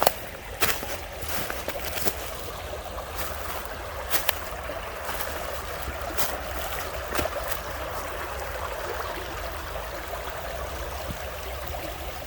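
A year-round creek in Minnesota with ice where the water drops flows in a quiet, steady wash, broken by occasional faint knocks and clicks.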